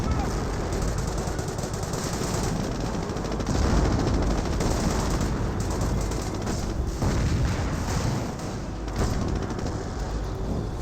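Tank and infantry battle in Company of Heroes, a dense continuous din of machine-gun fire, cannon booms and explosions at moderate loudness, with a commentator talking throughout.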